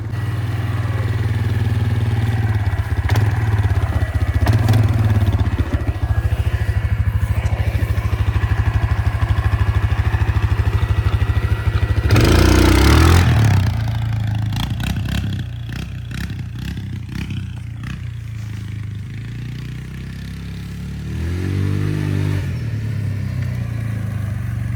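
A motorcycle engine runs loud and close as riders attempt wheelies, a steady rumbling drone with a sudden burst of revving midway, then a lower idle with a brief rev.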